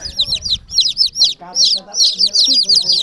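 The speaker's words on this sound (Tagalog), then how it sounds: "nilabas na ng mother ko yung mga maliliit na manok" Dense high-pitched chirping from a group of small chicken chicks, nearly continuous in quick bursts, close by, with faint voices and rustling underneath.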